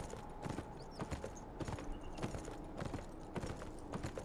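Horse hooves clip-clopping at a steady walking rhythm in the video game Beyond: Two Souls, quiet and regular with no talk over it.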